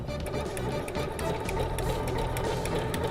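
An overlock sewing machine runs steadily, stitching and trimming the fabric edge of a small zippered toiletry bag, with a continuous fast mechanical whir and rapid needle clatter close by.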